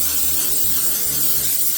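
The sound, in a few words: spraying cooking spray into protein bar molds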